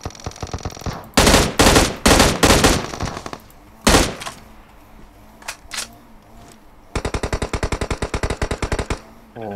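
Automatic gunfire in the PUBG Mobile battle royale game, loud close bursts of rapid shots coming in several volleys, with a long steady burst near the end.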